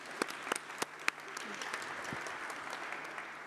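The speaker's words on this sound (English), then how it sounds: "You can clap, please clap" Audience applause at a fireside chat event, a brief spell of scattered hand claps with a few sharper, louder claps early on, fairly faint and distant, thinning out toward the end.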